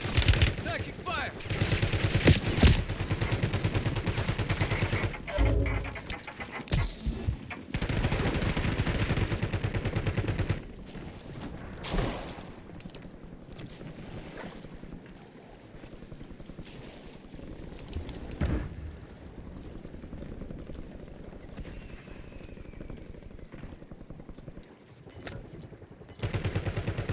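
Gunfire in a shooter video game, with rapid automatic bursts and single shots crowding the first half, then sparser, more distant shots. Quieter stretches come between them and faint voices sit underneath.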